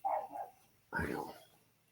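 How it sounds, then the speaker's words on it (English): A miniature pinscher dog barking outdoors in the dark, two short sharp barks about a second apart, close and fairly loud with no talk over them. "My dog is having a fit."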